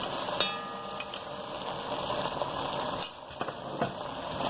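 Ginger and garlic sizzle in a pan with golden brown onions, a steady soft frying hiss broken by a few sharp stirring clicks.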